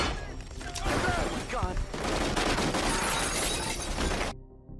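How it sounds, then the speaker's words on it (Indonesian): In a zombie film, occupants of a house open fire: loud, dense bursts of gunshots and sharp cracks fill the scene for several seconds, then cut off abruptly. "Setibanya di lokasi, mereka langsung disambut tembakan oleh penghuni rumah."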